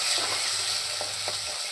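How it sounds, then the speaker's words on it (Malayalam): Onions and tomatoes sautéing in a pan for a Kerala-style fish curry, a steady close sizzle with faint stirring scrapes. "നമ്മുടെ ഉള്ളിയും തക്കാളിയൊക്കെ ഒന്ന് നന്നായിട്ട് വഴണ്ടി വരട്ടെ."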